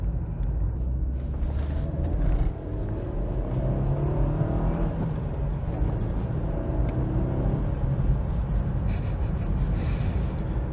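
A Mercedes W203 C200 Kompressor drives along country B roads, its engine giving a steady loud rumbling drone with road noise throughout, heard from inside the car with no letup.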